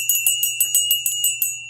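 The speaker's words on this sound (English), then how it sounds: "I'm going to ring the bell" A bell rung by hand in about nine quick, evenly spaced strikes, each a bright, close, loud ring that rings on briefly before the next, with no talking.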